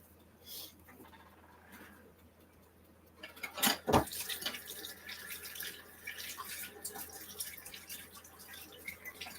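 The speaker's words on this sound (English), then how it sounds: "But I do have to use the beater, so I'll have to rinse those off. I better rinse those off right now." Electric mixer beaters get rinsed under a running kitchen tap, a quiet, steady trickle of water that turns splashier and more uneven midway, with a few clinks and no talk.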